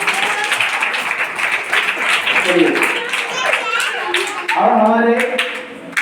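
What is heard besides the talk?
applause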